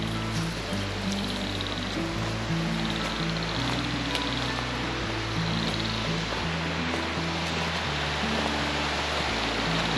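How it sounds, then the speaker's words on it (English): A hidden waterfall near Harvey Dam gives a steady, continuous rush of falling water for the whole stretch, with low tonal sounds running underneath. "There's, oh, look at the waterfall."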